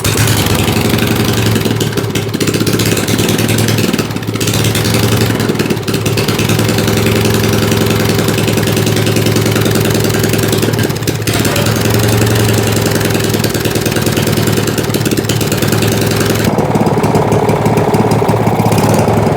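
A garden tiller engine runs loud and close, chugging roughly and unevenly because of fuel problems, a steady throbbing drone throughout.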